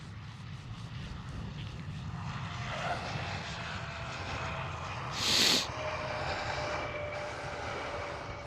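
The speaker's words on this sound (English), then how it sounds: "There's a KLM Cityhopper landing right now." A KLM Cityhopper aircraft lands at Amsterdam Schiphol airport, a steady distant jet engine roar that stays constant throughout, with a brief louder swell midway and no talking.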